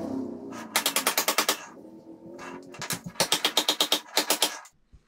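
A hammer taps big shims under a sliding table saw in rapid bursts of sharp, evenly spaced knocks, three clusters of about eight to ten hits each, close and loud with no talking.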